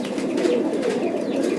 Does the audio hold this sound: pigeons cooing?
yes